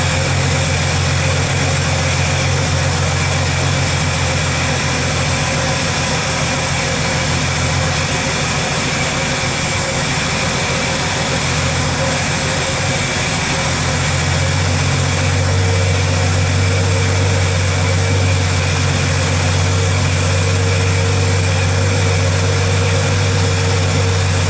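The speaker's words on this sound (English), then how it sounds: "I'm gonna try and adjust the idle mixture and see if that cleans up a little bit." A 1985 Ford F150 Bullnose pickup idles steadily at close range for the whole stretch, a constant low rumble with a slight shift in tone partway through and no voices.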